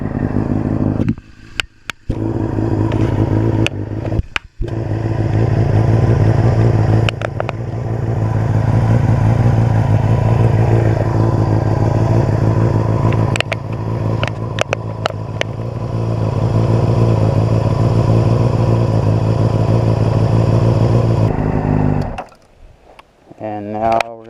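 A 2008 Honda CBR600RR sport bike engine idles steadily after an oil and filter change, a loud, close, continuous hum that drops out briefly a few times and cuts off near the end.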